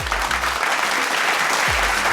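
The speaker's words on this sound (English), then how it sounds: "Let us give them a warm round of applause." A seminar audience claps in a short, dense burst of applause lasting about two seconds.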